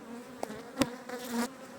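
Honeybees from an opened hive during a winter inspection in Kozan, Adana, give off a soft, close buzzing with a few brief louder hums rising over a low drone, and no voices.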